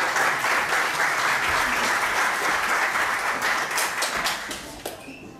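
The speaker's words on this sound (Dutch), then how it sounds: "Geef een applaus voor de mooie technische partij" Audience applause after a kickboxing match, dense steady clapping filling the hall for several seconds before thinning out toward the end.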